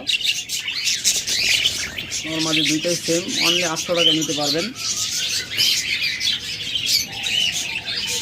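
Caged budgerigars or lovebirds kept for sale, in pairs with eggs, keep up a dense, bright chirping chatter throughout, while someone speaks briefly over it in the middle.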